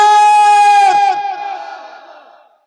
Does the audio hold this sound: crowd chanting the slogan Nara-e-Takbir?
yes